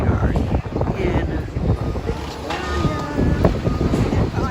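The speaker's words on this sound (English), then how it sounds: "So far, it is very windy." Strong wind buffets the microphone outdoors in Victoria during an Alaska cruise stop, a loud continuous roar with gusty surges and faint voices mixed underneath.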